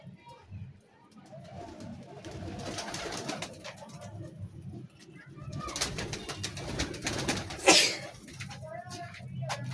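Domestic pigeons, including a golden-colored female, cooing and shuffling in a loft, with a loud flutter near the end, under ongoing talk.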